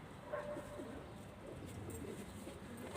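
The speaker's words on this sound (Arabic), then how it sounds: "بص الحمام" Pigeons coo faintly in hot weather, the low throaty calls quiet and partly lost in a constant background wash, with no talking.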